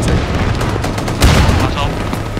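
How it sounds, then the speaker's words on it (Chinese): Gunfire in the military video game ArmA: a dense, loud crackle of rapid shots with a heavier boom about halfway through, and a voice talking over the shooting. "继续开火，继续开火，自由射击。"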